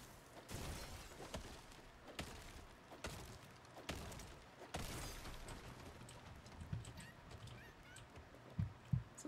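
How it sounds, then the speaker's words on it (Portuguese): Chickens in the Lego Fortnite video game cluck and squawk in sharp, scattered bursts over a busy, noisy game backdrop, with a cluster of louder calls near the end. "Essas galinhas desgraçadas"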